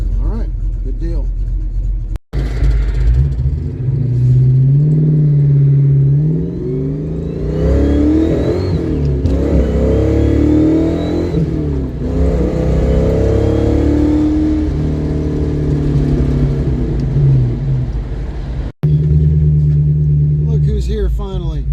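A car engine with a freshly fixed carburetor choke cranks, catches and keeps running at a loud, close idle with a few revs, then shuts off near the end.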